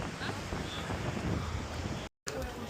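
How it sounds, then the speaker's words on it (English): Strong, gusting wind by the sea in cold Melbourne weather buffets the microphone with a constant roar, waves faintly mixed in, a brief cut in the middle. "It's a windy one"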